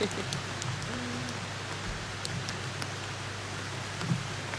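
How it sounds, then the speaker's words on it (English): Heavy tropical rain pours down in a Bali jungle, a steady dense hiss with a few sharper drip impacts scattered through, continuous and close around the listener. "It started absolutely pouring it down here."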